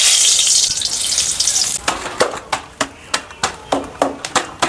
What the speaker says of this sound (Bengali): এবার দিয়ে দেবো একটা তেজপাতা আর দুটো শুকনো লঙ্কা